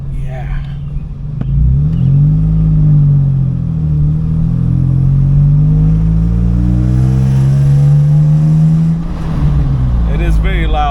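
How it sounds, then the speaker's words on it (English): A Nissan Xterra engine with an aftermarket exhaust runs loud and deep, its close-up drone rising into a sustained rev and holding steady before easing off near the end. "It is very loud for an Xterra. It does not have exhaust lead because the gentleman I got this from, he changed the exhaust"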